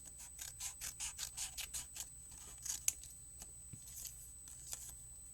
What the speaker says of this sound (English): So now I just need to snip across this bottom part